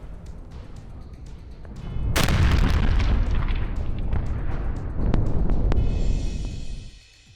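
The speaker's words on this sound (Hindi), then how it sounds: "टैंकर में भीषण धमाका और वहां से गुजर रही गाड़ियां इसकी चपेट में आ गई। एक के बाद एक धमाके होते रहे।" A tanker blast after a collision, heard as a sudden heavy roaring boom followed by a sustained rumble and a second surge of explosion noise, loud and close over a steady low background.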